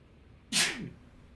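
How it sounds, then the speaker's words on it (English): A single sharp human sneeze, close and abrupt, standing alone against a quiet background and lasting under half a second. "Sorry, I just had to sneeze."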